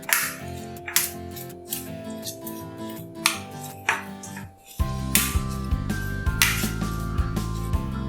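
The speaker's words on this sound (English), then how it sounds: "Now we'll mix all the ingredients together." Ingredients for soya tikki are stirred together in a bowl, with a spoon clinking and scraping against the dish in quick irregular taps, close by, over a steady background hum.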